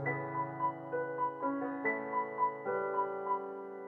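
Piano chords ring into one another, each new chord sounding over the sustained tail of the last in a slow, blurred progression.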